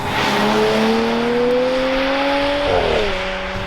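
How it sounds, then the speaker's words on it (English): A loud Porsche Macan GTS V6 engine revs up in a rising whine, drops briefly with a gear change through its 7-speed dual-clutch PDK gearbox, then keeps droning at high pitch. "the RS4 power unit in this car, it sounds fantastic to my ears"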